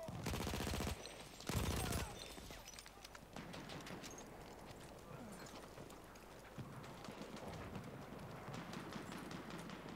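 Gunfire in a Battlefield 1 match, two loud bursts in the first two seconds followed by a quieter, steady rattle of distant shots and battle noise for the rest.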